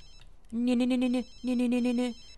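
A telephone in The Sims 3 rings at 2 a.m. with two loud, even electronic trills separated by a short pause, clear and close with no talk over them.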